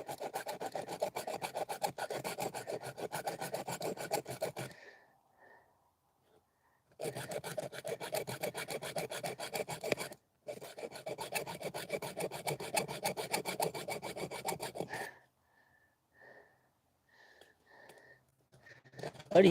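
Hand sawing through thick aluminum aboard a boat, a steady rasping back-and-forth stroke running loud for about five seconds, pausing, then resuming in two longer bursts separated by brief gaps, with faint tapping in the quiet stretches.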